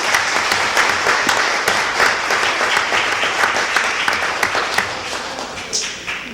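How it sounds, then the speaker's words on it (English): Loud, sustained applause from an audience at a scholarship awards ceremony, many hands clapping densely for several seconds before tapering slightly at the end. "Let's give her another round of applause."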